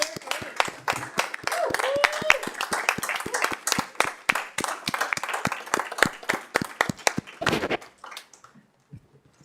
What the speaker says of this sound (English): And so we'll give them a round of applause.